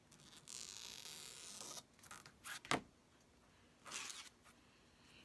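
Scissors cutting a paper letter E for a Chalk Couture craft design, soft close snipping and rubbing of paper in short bursts with one sharper click, faint and separated by quiet gaps.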